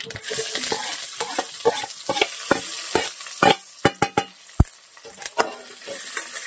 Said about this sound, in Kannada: ಇದಿಷ್ಟನ್ನ ಹಾಕೊಂಡು ಚೆನ್ನಾಗಿ ಫ್ರೈ ಮಾಡಿದ್ರೆ ಆಯ್ತು